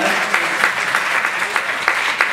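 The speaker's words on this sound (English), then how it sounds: "You can clap" Audience at a Miami Beach mayoral debate claps steadily, a dense patter of hands from a crowd filling the room, loud and continuous with scattered sharper claps.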